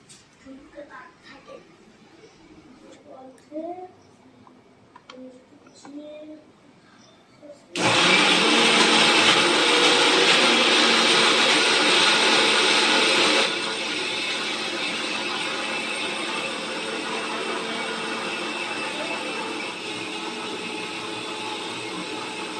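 A voice speaks briefly, then a blender roars to life grinding onion, tomato, ginger, garlic and green chili into paste, a loud steady whirring that dips slightly in pitch and level partway through.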